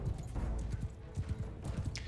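Horse hooves of mounted horse archers in the video game Bannerlord clatter in a dense, rapid clip-clop, many riders moving together as a steady rumble with no talk.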